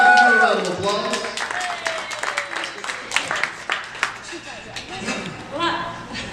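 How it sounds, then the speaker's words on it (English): Wedding guests at a reception toast break into a round of applause and clapping, a dense crowd sound that runs under a speaker's voice and carries on throughout. "A round of applause."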